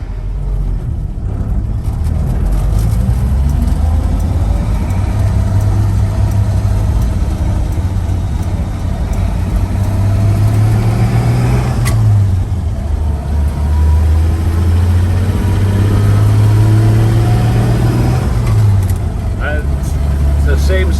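A 1948 Chevy pickup engine runs steadily nearby with a deep, even rumble, rising in pitch briefly a couple of times as it is revved, out in farm country.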